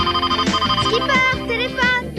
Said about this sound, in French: Skipper, téléphone.